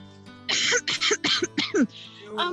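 A quick burst of several short coughs or throat-clearing sounds, close and fairly loud, in a choppy rhythm.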